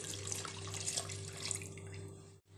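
Water pours steadily into a cooking pot on the stove for Moroccan harira, a close, continuous splashing rush that stops abruptly near the end.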